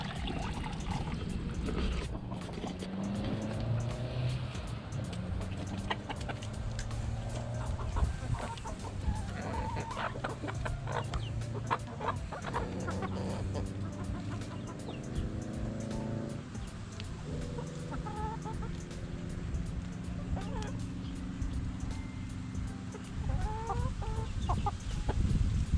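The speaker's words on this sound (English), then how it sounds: "We're gonna throw some in with the chickens just to see what happens." A group of backyard hens clucks and murmurs continuously, with overlapping calls of varying pitch and an occasional louder squawk, all fairly close.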